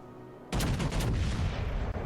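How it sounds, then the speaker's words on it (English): A heavy naval gun salvo booms out at an enemy Benson destroyer from the battleship Roma in World of Warships Legends, a sudden loud blast followed by a long rumbling roar that fills the rest of the moment. "I do take a shot here on this enemy Benson."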